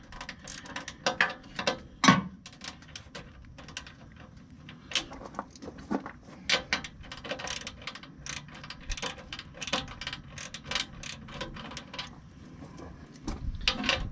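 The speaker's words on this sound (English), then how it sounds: "these nuts have a washer on added to the bottom of them," Nuts with added lock washers clicking as they are worked on during a turbocharger intercooler replacement on a 2007 Freightliner truck, giving scattered sharp ratcheting clicks and metallic taps at close range, irregular and without talk.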